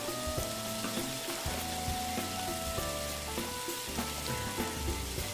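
Shrimp frying in a pan on the stove with a steady broadband sizzle, with music playing throughout and no talking.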